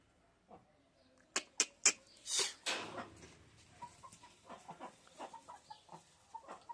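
Hens cluck in a farmyard coop, a few sharp loud calls early then a string of softer, quicker clucks trailing off, close by with no talk.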